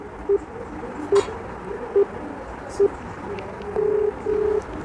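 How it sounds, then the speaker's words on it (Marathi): Evenly spaced short electronic beeps repeat over a faint line hiss, followed by two longer steady tones, like a phone ringing on the other end. "तिला फोन लावला आहे उचलते का बघू आपण आता"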